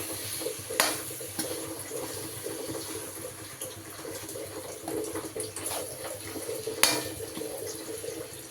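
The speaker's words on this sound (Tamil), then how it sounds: "நூடுல்ஸை வந்து மிக்ஸ் பண்ணிக்கலாம்." Noodles are stirred and mixed with masala in a pan, a soft continuous scraping and sizzling broken by a couple of sharper clinks of the utensil against the pan.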